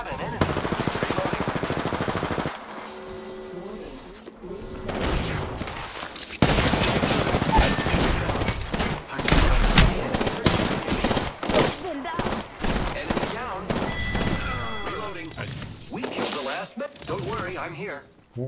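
Bursts of automatic gunfire and sharp single shots crackle through an Apex Legends firefight, dense and loud across the clip, mixed with in-game voice callouts.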